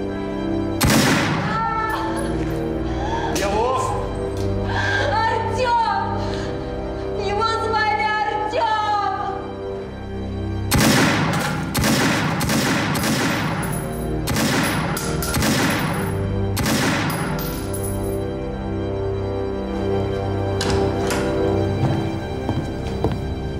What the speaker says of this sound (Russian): Там кто-то стрелял.